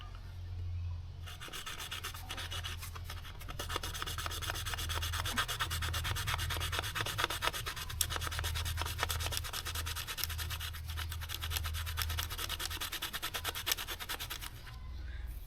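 Saw-toothed spine blade of a Harbor Freight Gordon survival hunting knife rasping steadily through wood, close and continuous with a quick back-and-forth stroking rhythm over a low background hum.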